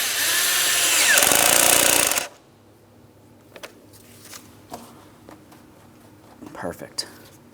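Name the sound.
tightening a hose clamp with a tool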